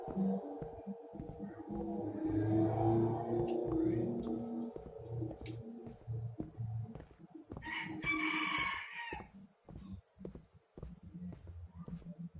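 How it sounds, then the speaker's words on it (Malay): A rooster crows inside a horror game set in a cursed house, its call rising among other game sounds while a person talks over it at moderate loudness. "Tu lah suara ayam tu lah."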